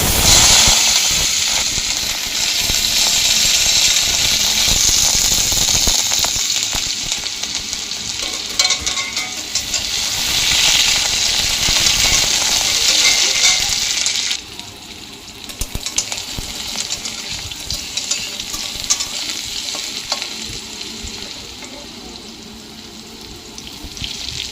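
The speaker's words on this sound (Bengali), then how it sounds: "কড়াইতে তেল দিয়ে দিলাম, তারপর কুমড়োগুলো ভেজে নিতে হবে।" Pumpkin pieces fry in oil in a wok with a loud, continuous sizzle and hiss and some stirring. The sound drops noticeably partway through and then carries on more quietly, with no speech.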